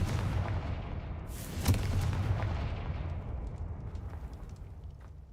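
A fire-spell blast in the Hogwarts Legacy video game, a heavy rumbling explosion with a sharp crack partway through, loud and booming, decaying slowly under low roaring noise.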